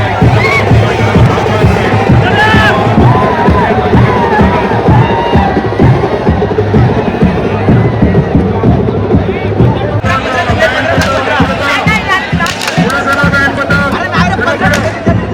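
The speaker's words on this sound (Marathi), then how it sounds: "अवघडी गर्दी." Loud, dense crowd at the Ekvira Aai palkhi procession, a constant hubbub of many voices with shouts and cheers rising over a low rumble, growing busier toward the end.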